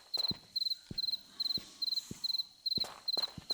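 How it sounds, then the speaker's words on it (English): Crickets chirp in the Nevada Desert level of Tomb Raider I–III Remastered. Short bursts of high chirps repeat in a steady rhythm, and soft footstep-like thuds fall in between. "adding cricket sounds, that's interesting."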